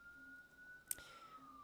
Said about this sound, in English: there goes the first siren of the day